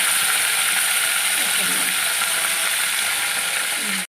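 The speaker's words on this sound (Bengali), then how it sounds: "তারপরে কিন্তু মাছগুলোকে আমি তেলের মধ্যে ছেড়ে দেবো" Lemon- and salt-marinated bhola fish frying in hot oil, a dense, steady sizzle that fills the whole stretch at close range, with faint low clatter underneath.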